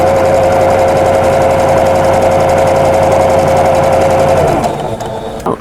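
A sewing machine stitching pieced quilt border strips together, a loud steady mechanical hum and rapid needle clatter running close for about five seconds before winding down and stopping.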